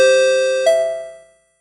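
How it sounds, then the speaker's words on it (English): A race announcer at a road-racing event at VIR rings a bright electronic bell chime, one sustained ringing tone followed by a second ding that decays over about a second, loud and close with no talk. "let's ring the bell again"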